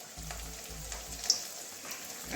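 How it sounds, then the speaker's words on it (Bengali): A paratha sizzles in a generous amount of oil in a wok, a continuous crackling fry heard up close with small pops and one sharp spatter, and no one speaking. "একটু তেলটা বেশি লাগবে, ওই জন্য আমি কড়াইতেই ভাজছি।"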